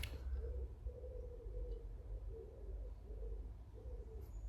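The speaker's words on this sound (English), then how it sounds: "Can you hear the wood pigeons?" Soft, low cooing calls of wood pigeons repeat in a steady rhythm, several phrases in a row, heard at a distance over a constant low rumble of wind or traffic.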